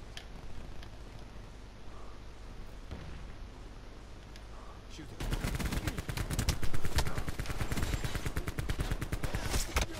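Bursts of automatic gunfire from a weapon in Call of Duty: Black Ops 4, starting faint and sparse, then turning into loud, dense rapid fire that fills the second half.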